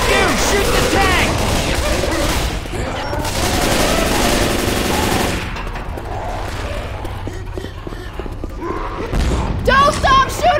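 Rapid, loud gunfire in Left 4 Dead 2, a dense fusillade of automatic weapons pouring into the Tank for several seconds, then thinning out, with voices shouting over it.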